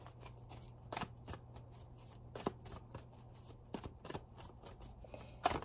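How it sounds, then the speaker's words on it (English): Tarot cards being shuffled, soft rhythmic riffles and slaps repeating at close range, quiet overall with a steady low hum underneath. "I'm gonna pull some tarot."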